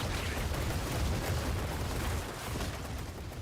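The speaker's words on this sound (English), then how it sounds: "Make corpses, and then Corpse Explosion to do Shadow Corpse Explosions" Rumbling blasts of Shadow Corpse Explosions from a Necromancer bone build in Diablo 4, a dense continuous roar of low booms with rapid crackling bursts layered throughout, loud and unbroken.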